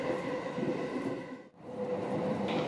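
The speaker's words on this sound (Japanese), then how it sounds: "この電車は南武線開業90周年を記念いたします臨時の各駅停車上りと行きです" A Nambu Line commuter train runs along on a special run marking the line's 90th anniversary, heard from inside the car as a steady rumbling roar with faint rail noise and a brief dip midway, no voices.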